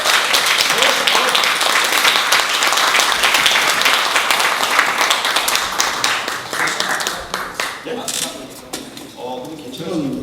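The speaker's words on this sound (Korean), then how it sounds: "우리 오늘 좋은 말씀 해주실 김종대 의원님을 힘찬 박수로 모시도록 하겠습니다." Audience applause welcoming a politician to the stage at a lecture in a district office hall, continuous lively clapping from a modest crowd that gradually thins and becomes more scattered toward the end.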